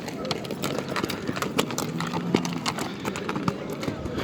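Many horses' hooves clip-clop on the ground at the Özgön horse market, with a dense, steady rhythm of nearby steps and an occasional whinny over crowd noise.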